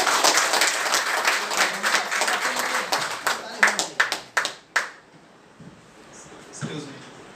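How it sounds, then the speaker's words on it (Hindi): An indoor audience gives loud applause for scientists at a presentation on a bio-magnetic mattress, dense clapping that thins into a few last scattered claps before quiet. "तो एक बार वैज्ञानिकों के लिए जोरदार ताली होना चाहिए।"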